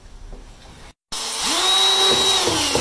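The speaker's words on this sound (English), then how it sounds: "So I'll drill one test hole right here." Power drill boring a test hole into wooden stairs: after a short quiet gap the motor spins up and holds a loud, steady whine as the bit bites into the wood.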